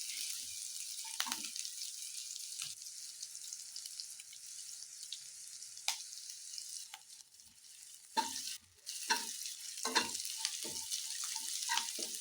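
Garlic and ginger fry in a pan for chicken manchurian, a steady bright sizzle running throughout with occasional scrapes and clicks of stirring, close and moderately loud, no talking.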